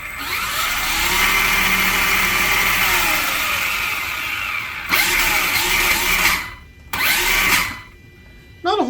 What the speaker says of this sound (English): Let's see about some wheel speed. This is just on 2S, and this vehicle can run up to 3S.